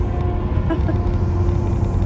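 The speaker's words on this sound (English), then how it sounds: "That motorcycle going fast." A motorcycle roars past fast, a loud, steady broadband rumble that stays dense and close for the whole stretch, with no voices over it.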